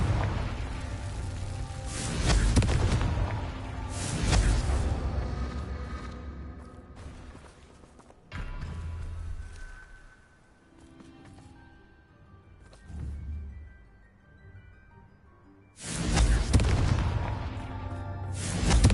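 Confringo fire spell explosions in the Hogwarts Legacy video game: several loud, booming blasts, with a heavy burst at the start, a few weaker thuds in the middle and another strong blast near the end.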